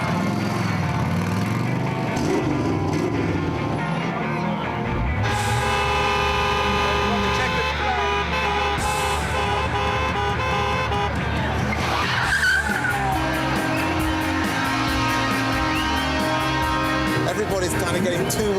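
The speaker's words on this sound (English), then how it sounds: "Listen to the engines." Several car engines rev and roar together at a rally start, loud and continuous with rising and falling pitch and occasional tyre squeal, while people talk over the noise.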